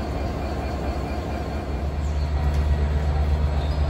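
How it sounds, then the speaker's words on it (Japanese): A diesel locomotive idles at a station at the head of the Bangladesh Railway Rupsha Express, giving a steady, loud low rumble with constant mechanical hum throughout. "それから先頭の機関車です"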